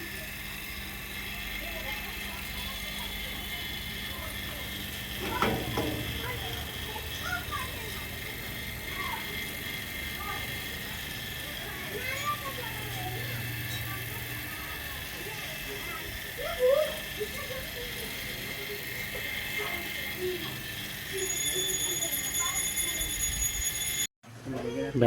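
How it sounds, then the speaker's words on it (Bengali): A vacuum pump evacuates an air conditioner's newly installed outdoor unit with a steady mechanical drone, while people talk and other background noise drifts in. "এখানে ভ্যাকুম চলছে।"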